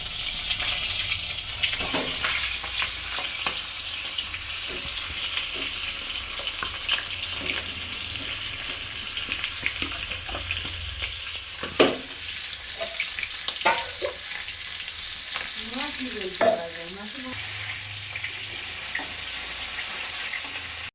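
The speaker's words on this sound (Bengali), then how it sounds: "এটা করবো সর্ষের তেলে মাছটা ভেজে নেব" Salted, turmeric-rubbed fish heads fry in mustard oil in a pan, giving a steady crackling sizzle throughout, with occasional louder spatters, clinks and stirring scrapes. There is no talking.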